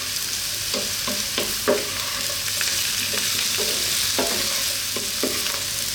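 Diced potatoes fry in a pan with a constant, bright sizzle while a utensil stirs them, adding intermittent scraping knocks.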